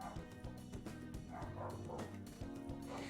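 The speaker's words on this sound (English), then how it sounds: "That honestly sounds like the type of barking where they're like barking at a rabbit or something. Especially since there's multiple of them barking." Several dogs barking together in Persona 5 Royal: overlapping bow-wows and yips run continuously through the clip, fairly loud over a dense, busy background.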